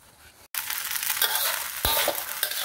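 Rice vermicelli for bihun goreng is stir-fried in a wok over medium heat, a loud continuous crackling sizzle with scraping strokes after a brief pause at the start, and no voices.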